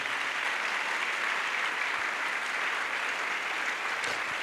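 A worship crusade audience claps continuously and loudly for the Lord, a dense, even wash of applause lasting throughout with no pauses.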